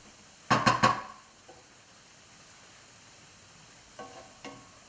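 Onions frying in a pan while being stirred, two brief clattering scrapes of the utensil at the start and a couple of softer ones near the end over a faint, steady sizzle.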